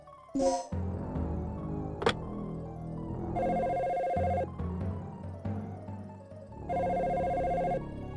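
A telephone in the Dino Crisis video game rings as it pages the researcher Paul: two loud electronic ringing bursts, each about a second long, separated by a pause, over low ambient game tones and a few clicks.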